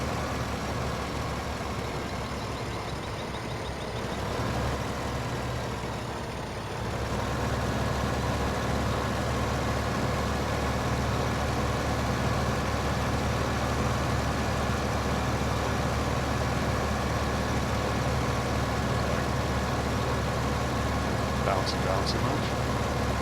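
A tractor in a farming video game hauls a heavy plow, its engine droning in a steady low rumble that shifts briefly early on and then holds constant and loud, while someone talks over it.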